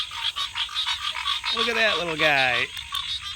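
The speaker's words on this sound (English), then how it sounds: "Those are some noisy green tree frogs." Green tree frogs croak in a swamp at night, a nasal, rising call ringing out against a background chorus of other frogs, while a person speaks softly over them.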